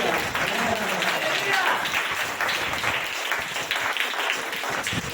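Hands clap steadily across a Hindi Christian church congregation, a dense continuous patter of applause that swells early and holds, with some talk mixed in beneath it.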